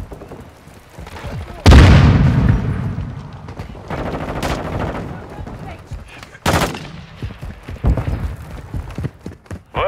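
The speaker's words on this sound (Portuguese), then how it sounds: "Jogando bomba anti-bunker." A bunker buster bomb in Call of Duty Modern Warfare 2 detonates with a loud, deep boom that rumbles away, followed later by another heavy blast among scattered gunfire, with voices talking throughout.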